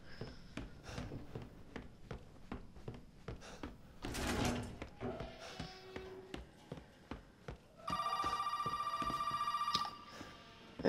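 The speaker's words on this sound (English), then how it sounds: "A phone call to Zoe" A telephone rings in Resident Evil 7, a steady electronic trill lasting about two seconds near the end, preceded by a run of sharp taps, footsteps and a brief noisy rustle from the game.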